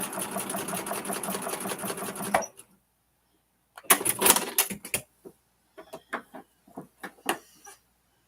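Sewing machine stitching fabric for a vintage Christmas quilt block: a steady rapid whirring run for over two seconds, a pause, a short loud burst, then scattered brief stitches and clicks, close and without speech.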